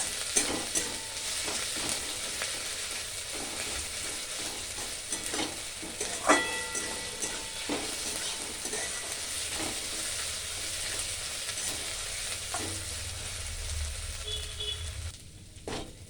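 Achari chicken fries in a pan with spices, giving a constant close sizzle with stirring scrapes and clinks throughout, no voices, and the sound drops briefly near the end.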